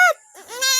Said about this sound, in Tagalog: ari nga po pala ang aking kambing na isa